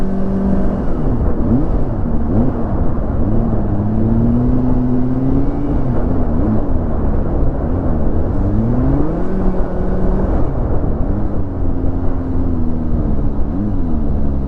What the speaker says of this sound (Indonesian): jadi knalpotnya tuh nggak terlalu berisik banget ya